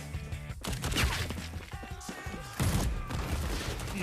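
Rapid bursts of gunfire from a Ubisoft video game trailer, loud volleys of shots with crashes and effects layered in a busy mix, some speech faintly underneath.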